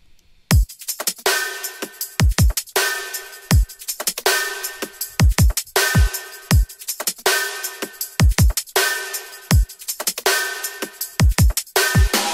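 A produced drum beat with stereo-widened tambourines, punchy kicks and bright shaking jingles repeating in a steady looping groove, loud and continuous with no voices.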